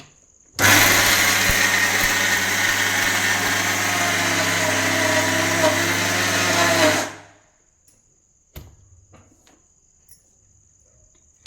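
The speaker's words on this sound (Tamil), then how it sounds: "கொரகொரப்பாக இருக்கிற மாதிரி அரைச்சா போதுமானது." A mixer grinder coarsely grinds sorghum in a loud, steady whirring run of about six seconds, then winds down and stops, followed by a few faint knocks.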